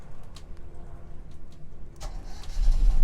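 A boat engine is started during routine maintenance with the water filled to the waterline. A few quiet clicks and cranking sounds are followed by the engine catching and settling into a low, rumbling idle.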